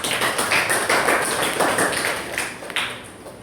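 Students in a classroom applaud with a quick patter of many hands, close and lively, tapering off toward the end with no talking.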